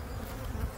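Honey bees buzzing loudly and close during a hive inspection, a dense continuous drone with no talk over it.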